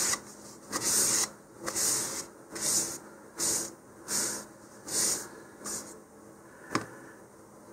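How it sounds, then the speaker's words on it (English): A cloth dampened with alcohol rubs back and forth across a high power model rocket's nose cone in a steady rhythm of hissy strokes, about a dozen, ending with a small knock. "I'm going to wipe this down with just a little bit of alcohol"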